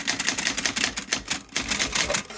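Keys struck repeatedly on a Royal typewriter, a rapid series of sharp close mechanical clacks with short pauses between strokes.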